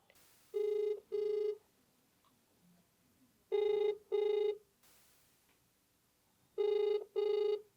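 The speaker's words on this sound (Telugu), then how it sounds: "జాయింట్ సెక్రటరీ అయినటువంటి శశిధర్ గారికి కాల్ చేసి కనుక్కుందామండి." A telephone ringback tone sounding while a call connects, three paired double rings spaced a few seconds apart, clear and fairly close against a quiet background, with no talk.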